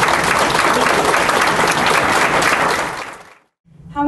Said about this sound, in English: let's give Roanne a round of applause